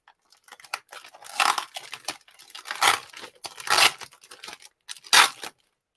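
A taped package is torn open by hand, several close bursts of ripping tape and crinkling paper separated by short pauses, then silence at the end.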